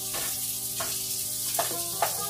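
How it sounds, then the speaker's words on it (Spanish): Shrimp sizzle and fry in a pan and are stirred a few times, with steady crackling and short scraping bursts close by and no voices. "vamos a revolver nuestros camaroncitos"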